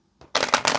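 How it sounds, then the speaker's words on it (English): Tarot cards are shuffled by hand in a short, crisp riffling burst following a faint tap, close and fairly loud, with no voice. "we're gonna get one more shuffle"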